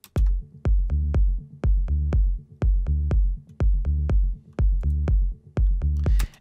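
A deep synth bass plays a repeating, groovy melodic techno pattern of punchy low notes with short gaps, steady and dark, with no other sounds.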